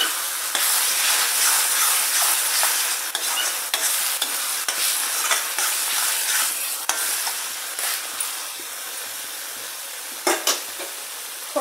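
A curry with kasuri methi stirred in a hot pan: a constant close sizzle and hiss broken by repeated scraping strokes of a spoon, a couple of firmer knocks near the end, and no voices.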